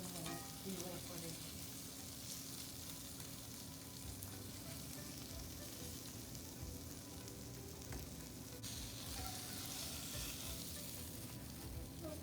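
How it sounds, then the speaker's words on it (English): A steak sears in a hot pan on the stove, making a dense, continuous sizzle that stays loud and even throughout with no break. "we're just gonna let this right here sear pretty good"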